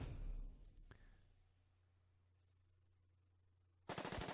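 Gunfire in a turn-based strategy video game: a loud crackling burst at the start that fades to a quiet hum, then a sudden rapid, machine-gun-like volley at the end.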